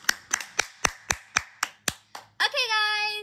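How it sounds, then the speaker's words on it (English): About nine sharp, evenly spaced hand claps, close and distinct, followed by a brief tonal sound at the end. "let's give another round of applause for Slayhas for getting chosen"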